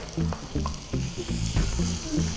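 Garlic and ginger sizzle steadily in butter in a pan close by, with a faint scrape of stirring underneath.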